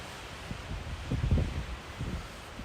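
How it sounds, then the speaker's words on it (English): Wind gusts across an open spot in the White Mountains, a low rumbling buffet on the microphone that swells and fades in uneven pulses, fairly close and moderately loud, with no talking. "It's just that damn wind that sucks."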